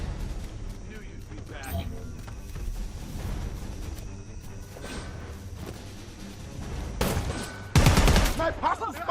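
Gunfire in the multiplayer game Predator Hunting Grounds, scattered shots and bursts mixed into a busy battle soundscape with voices talking over it, growing louder and denser near the end.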